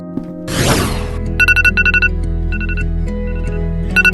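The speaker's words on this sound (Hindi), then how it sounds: "अलार्म बंद करो यार" An alarm rings in repeated short bursts of bright electronic beeps over a steady background hum, following a brief noisy rustle at the start, with no talking.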